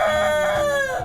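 Backyard chickens squabble while settling their pecking order, giving a loud, close, sustained squawk that slides down in pitch over about a second.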